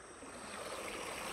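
Water rushing at a waterfall near Himayat Sagar in Hyderabad, heard as a steady, fairly faint broadband wash with no breaks and no voices.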